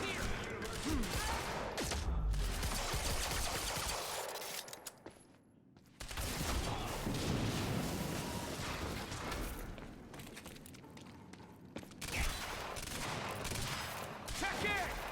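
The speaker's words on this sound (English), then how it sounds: "We're under fire!" Gunfire in the video game Quantum Break, sustained bursts of rapid automatic shots with booms and debris, dropping out briefly midway before resuming, loud and dense throughout.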